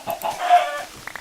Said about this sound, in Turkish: Tavuk muydu o?